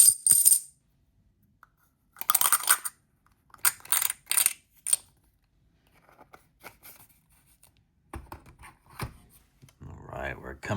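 Silver coins, dimes, quarters, halves and dollars, drop and clink onto a surface in several bright bursts of jingling metal, close and loud, with quieter handling noises between.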